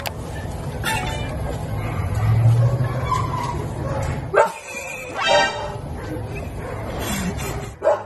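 Dogs bark and yelp excitedly amid a busy, noisy background, with a few sharp bursts standing out over the steady commotion.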